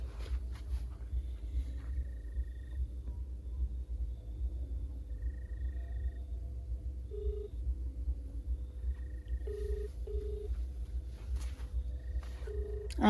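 A phone call being placed for an autorickshaw driver, heard as a low rumbling hum with short repeated electronic tones and beeps scattered through it, fairly quiet and without talk.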